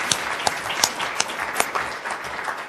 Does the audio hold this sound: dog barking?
no